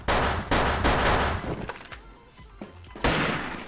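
Gunfire from a shooter on a Minecraft map, loud bursts of shots in quick succession, a quieter stretch of scattered hits, then another loud burst.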